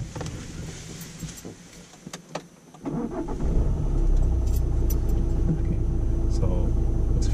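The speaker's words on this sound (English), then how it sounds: "So start the car for me." A car engine is started during a driving lesson: a few clicks and key jangles, then the starter catches and a steady idling rumble settles in, with people talking.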